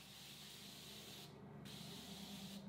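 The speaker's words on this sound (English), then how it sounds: "and I'm just going to spray my face" Morphe Prep and Set setting spray misted onto a face, a soft continuous hiss close to the microphone, briefly broken by a short pause between sprays.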